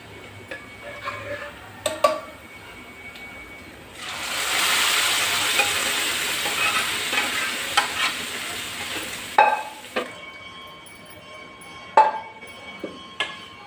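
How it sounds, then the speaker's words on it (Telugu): Cooked lentils for a cucumber and tomato dal are tipped into a hot tempering, setting off a loud sizzling surge of several seconds, then quieter crackle with sharp spoon clinks against the pan. "ఇప్పుడు దీంట్లోకి మనం ముందుగా ప్రిపేర్ చేసుకున్న పప్పును వేసుకుందాం"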